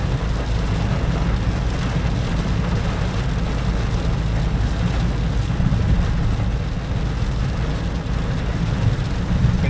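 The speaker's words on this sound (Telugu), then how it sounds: "వర్షం ఇటే ఉంది కదా" Steady, loud wash of rain on a highway during a ride near the sea, blended with continuous road and vehicle noise throughout, with no voices.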